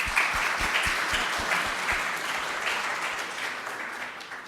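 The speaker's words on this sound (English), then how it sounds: "please join me and in a round of applause for our panelists" Audience applause for distinguished panelists at a regional social security forum for Asia and the Pacific: dense, steady clapping from a sizable crowd, with a few sharper nearby claps, slowly fading over several seconds.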